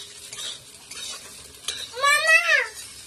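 Food frying in a pan at home, a soft sizzle with stirring scrapes and light utensil knocks, fairly quiet, followed by a brief high-pitched vocal sound near the end.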